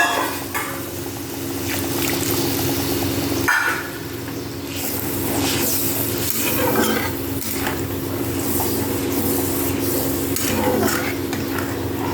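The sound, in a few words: sautéing coconut paste in a pan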